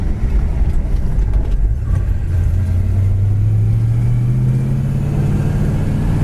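A 1972 Pontiac GTO Judge engine accelerating down the road, a loud continuous rumbling roar whose pitch climbs steadily as it pulls through the gears, close and alone.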